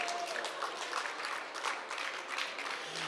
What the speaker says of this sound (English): So if everyone can give them a round of applause.